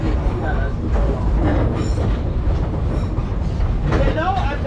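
A train rolls along the St Kitts railway, a steady rumbling clatter of wheels on track with occasional faint squeals, running continuously under a background voice.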